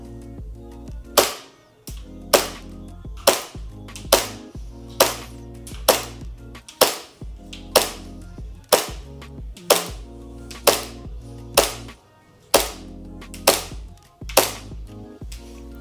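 Gas blowback airsoft replica, a JW4 Pit Viper, firing 0.20 g BBs at 135 PSI on an outdoor range at 12 degrees: about thirteen sharp, loud, close shots, each with a short mechanical clack, spaced roughly a second apart.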